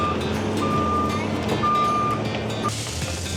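A high-rail dump truck reverses along a railroad line during hurricane damage cleanup, its backup alarm beeping in evenly spaced tones over a steady, loud engine rumble close by.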